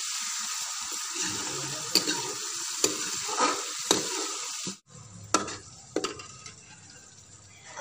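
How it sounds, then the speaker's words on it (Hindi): Tomatoes and green chillies are stirred together in a pan for a potato and wadi dish, giving a soft steady sizzle broken by sharp spoon scrapes and taps against the pan. "अब हम इनको मिक्स करेंगे।"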